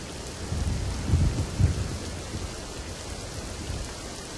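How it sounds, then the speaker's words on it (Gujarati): Heavy monsoon rain pours steadily in Surat district while low thunder rumbles a couple of times early on, then fades back into the constant downpour. "સુરત જિલ્લામાં અવિરત ધોધમાર વરસાદ છે"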